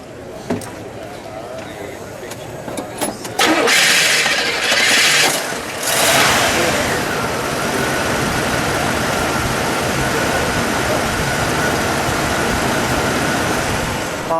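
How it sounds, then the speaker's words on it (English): A 1975 Buick Century Indianapolis 500 Pace Car Edition with a 350 V8 cranks and catches after a few quiet seconds, rising in a loud rough burst before settling into a steady, even idle rumble that runs to the end. "Let's fire it up, shall we? Let's let it idle."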